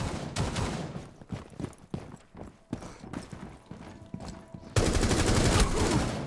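Shotgun blasts in the tactical shooter Rainbow Six Siege, sharp separate percussive bursts spread through the stretch, then a sudden loud sustained burst of noise near the end.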